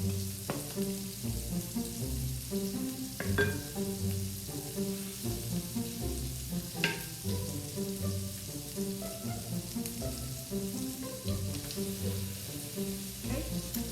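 Vegan veggie burger patties frying in a pan, producing a continuous low crackling sizzle with scattered pops and faint clinks throughout, fairly quiet and steady, with no speech.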